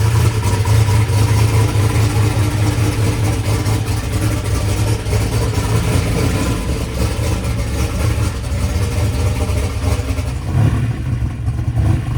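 A drag race car engine idles steadily at Rockingham Dragway with a deep, rough, slightly uneven rumble, loud and close throughout.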